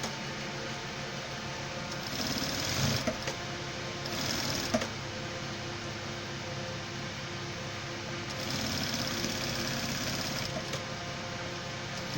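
A sewing machine runs a long seam down a pant leg toward the knee with a continuous close mechanical whir that swells slightly in a few stretches, with faint clicks along the way.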